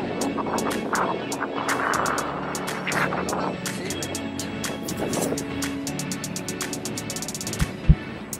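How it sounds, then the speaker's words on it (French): Steady wind rush buffets a camera microphone while the rider glides on an electric unicycle, with faint traffic behind and a couple of sharp bumps near the end. "je teste en même temps la capacité à capter du son puisque je suis sur ma gyroroue et je roule"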